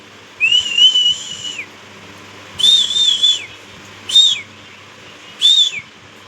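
A person whistles to call an animal, giving four loud, clear whistles with short pauses: two long wavering notes followed by two shorter rising-and-falling ones, with no talking.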